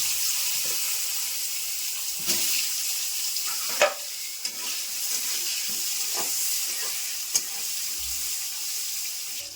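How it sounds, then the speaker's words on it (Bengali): Eggplant (brinjal) slices fry in oil left over from frying hilsa fish, giving a steady close hiss punctuated by a few sharp clicks and utensil taps. "ওই তেলে আমি বেগুনগুলো ভেজে নিচ্ছি।"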